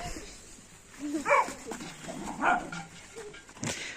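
Dogs play and bark outdoors in the evening while children run around with them, giving a few short scattered barks and yelps at moderate distance, with no talking.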